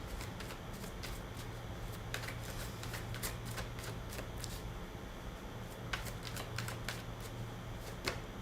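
Oracle cards shuffled and handled in a steady stream of soft, papery riffles and flicks, with sharper snaps scattered throughout, close up over a low steady hum, no voices.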